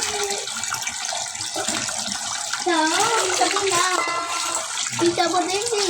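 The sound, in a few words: washing whole fish with water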